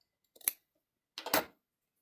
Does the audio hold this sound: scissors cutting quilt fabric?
yes